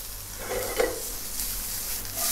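Fish fries in a pan for a diet fish recipe, giving a steady, moderate hiss of sizzling oil with a few soft stirring touches and no talk.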